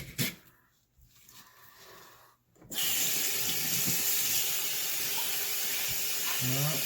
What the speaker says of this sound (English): Rinse all that off.